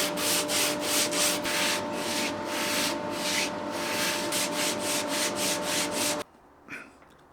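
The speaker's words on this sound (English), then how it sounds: "I did a very rough bit of material removal on the band sander." A band sander grinds away material from a wooden acoustic guitar part, a close, harsh abrasive rasp over a steady motor hum, pulsing with rhythmic strokes before stopping abruptly.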